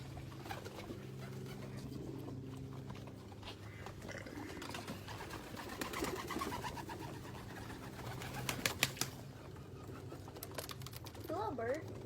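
Pet pigeons or doves coo softly in soft rolling calls near the microphone, with faint fluttering and scratching, while a person talks to them nearby.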